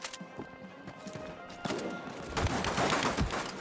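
Machine pistol fire in the WWII video game Land of War, set during the 1939 German invasion of Poland: loud irregular bursts and sharp reports over a busy battle din, with clatter and rumble swelling toward the end.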